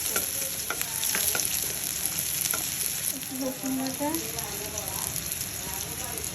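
Onions and green chilies fry in a pan, a lively crackling sizzle with sharp spattering pops and occasional stirring, close and steady.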